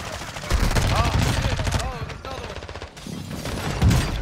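Rapid gunfire and explosive thumps from an airstrike in a first-person shooter match, dense bursts of shots and booms heard close, with players talking over the action.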